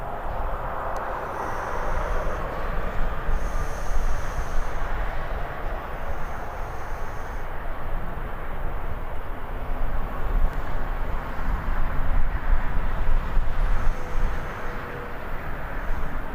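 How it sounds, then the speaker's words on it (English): A Ryanair airliner departs Birmingham airport, its jet engines giving a sustained broad roar heard from a distance, steady and building slightly over time with no talk. "Just in time to watch the Ryanair depart."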